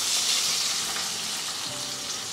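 Onions hiss and crackle in a pan with mustard seeds, a loud, continuous close-up frying sizzle with faint stirring underneath.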